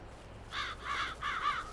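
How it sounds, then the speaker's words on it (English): Crows caw in Farming Simulator 22, four harsh calls in quick succession, fairly close and clear against a quiet background. "Sorry, crows."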